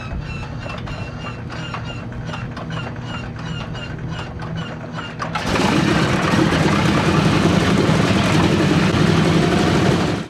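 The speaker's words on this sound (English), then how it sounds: "Let's just listen to the start-up of the B17." A Boeing B-17G Flying Fortress four-engine heavy bomber starting up: a steady idling engine drone with a low rhythmic pulse, then a sudden jump to a louder, denser roar as more engines catch and run up, sustained to the end.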